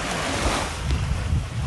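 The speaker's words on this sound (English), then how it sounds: "A little bit of wind, hopefully that's not coming through, and just the ocean waves." Ocean waves wash onto Bangtao Beach in Phuket on a windy morning, a steady close roar of surf mixed with rumbling wind buffeting the microphone, with no voices.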